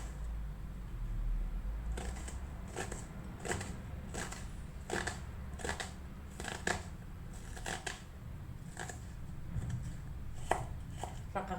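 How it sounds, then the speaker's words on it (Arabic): Rapid knife cuts through an onion on a board, sharp clicks landing in a steady, irregular run of chops, close and distinct over a low background hum. "البصله هي غادي نقطعها"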